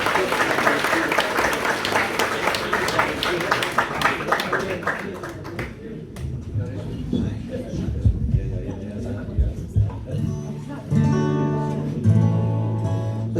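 Audience applause at a live music celebration event, dense clapping for the first six seconds before fading into murmuring, shuffling and a few musical tones as the performer returns.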